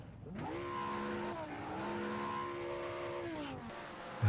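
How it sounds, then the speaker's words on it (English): Lamborghini GT3 race car in the iRacing sim, its engine droning and wavering in pitch at a steady moderate level, slightly distant and a bit muffled, with no voice over it. "You can hear that Lamborghini lowing like a wounded calf"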